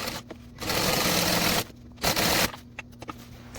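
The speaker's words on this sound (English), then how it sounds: "we're going to stitch 1 more side together" Sewing machine stitching a seam on a fabric divider bag, running in two sustained bursts of steady motor whir with brief pauses between, close and fairly loud.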